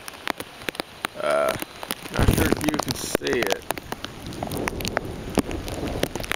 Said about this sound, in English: now it's raining a decent amount